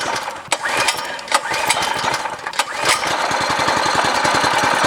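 A 6.5hp Predator engine is pulled into life on an old race go kart, with a few uneven catches that settle into a steady, rapid chugging idle close by.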